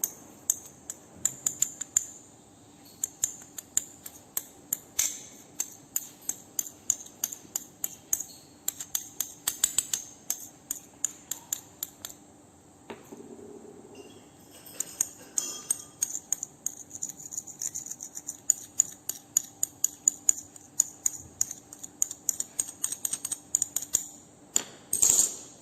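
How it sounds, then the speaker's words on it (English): A pestle grinds phthalic anhydride and urea in a mortar, making a quiet, steady run of sharp clicks and scrapes that repeats rhythmically with brief pauses, close up and without speech. "2 gram of urea is mixed thoroughly in a pestle and mortar"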